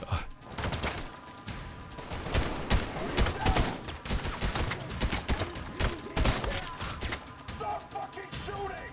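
Dense gunfire in the video game Trepang2, overlapping rapid shots and bursts with impacts and crashes, loud and continuous, with voices talking over it.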